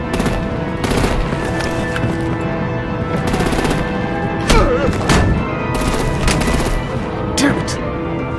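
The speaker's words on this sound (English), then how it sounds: "Break out the artillery and disable their vehicles!" Dense machine-gun fire and booming artillery from a battle in Batman: The Enemy Within, a loud and continuous barrage of rapid bursts and heavier blasts. Voices are partly audible under the din.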